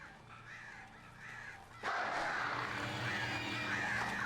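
Crows caw in the video game Alan Wake, harsh repeated calls that swell abruptly partway through and then carry on loud and layered over a rumbling ambient backdrop, with no one talking.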